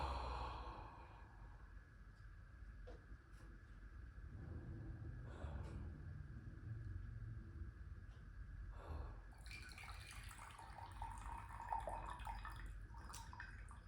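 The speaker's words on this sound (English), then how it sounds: "as I'm pouring these teas" Fu Shou Shan tea poured into cups, a soft continuous liquid trickle over low room hum that grows brighter and busier in the final few seconds, with no talking.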